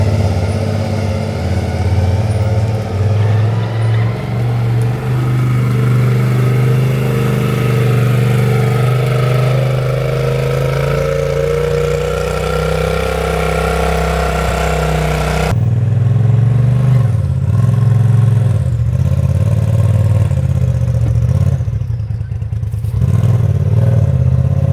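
A Polaris Turbo R UTV fitted with a new clutch kit and 35-inch tires runs loud and close, its engine idling and then revving in rising, falling swells before cutting to rougher throttle blips.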